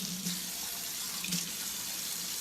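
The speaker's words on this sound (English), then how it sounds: "We'll wash our spatula off." Kitchen tap running steadily as a spatula is rinsed under it, an even close hiss of water lasting a couple of seconds with no voices.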